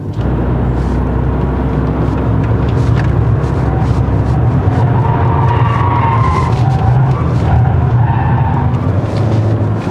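A Maserati Ghibli GT Hybrid, Fragment Edition, revs hard in sport mode, its loud engine roar sustained and rising with tire noise beneath it, continuous and close for the whole stretch.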